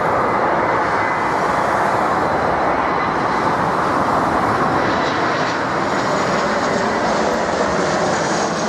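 Airplane landing at Berlin Tegel airport, a loud continuous broadband jet roar sustained close by with no talking.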